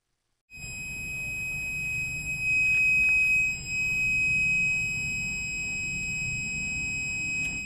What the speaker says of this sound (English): When the buzzer sounds, turn on the Smartkey